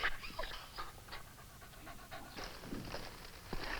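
An injured dog, reportedly hurt by a gunshot wound, pants steadily in quick breathy bursts close by, alone with no talk, in a Western radio-style drama.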